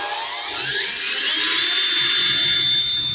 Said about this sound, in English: Now we're using this special drill bit,